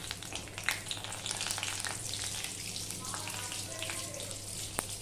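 Panch phoron and bay leaf sizzle steadily in hot oil for a vegetarian vegetable dish, a continuous close frying hiss with a few small pops and clinks, no talking.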